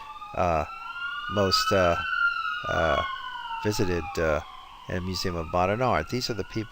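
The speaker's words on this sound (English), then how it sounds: "sorry about the sirens in the background" Wailing emergency sirens sweep up and down in the background of a lecture in Montreal, clearly audible beneath someone speaking continuously.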